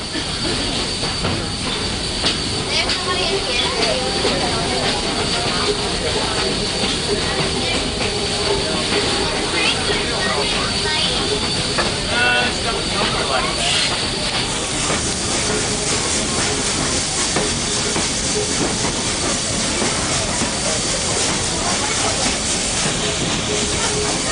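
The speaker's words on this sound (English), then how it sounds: "Enjoy your ride today on engine number 300." Texas State Railroad engine 300 train running at Railfest, a loud continuous rolling clatter with hissing steam and squealing wheels close by, sustained throughout.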